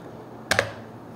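Two quick keystrokes on a computer keyboard while typing a letter into a word processor, close and crisp against quiet room hiss.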